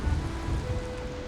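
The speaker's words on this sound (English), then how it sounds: "Yikes! It's starting to rain." Rain begins falling on an outdoor building site, a dense pattering hiss on surfaces with low soft thumps, steady and fairly faint across the short moment.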